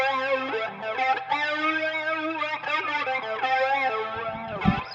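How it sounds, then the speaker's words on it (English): Electric guitar played through a Strymon multi-dimensional phaser pedal, giving sustained chords with swirling, sweeping phase modulation and a buzzy, distorted edge, loud and close without talk. "what we've got on here is a multi-dimensional phaser"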